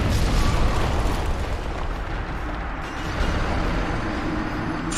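A loud explosion bursts beneath the player in the video game Dark Souls Remastered, a dense roaring blast that stays heavy and rumbling for several seconds with no speech over it.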